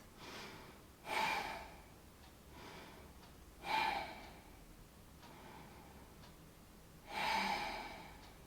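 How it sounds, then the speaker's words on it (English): Slow deep breaths during an at-home pilates session, three soft airy inhale-exhale swells spaced a few seconds apart, close and quiet, with no talking. "And take some deep breaths."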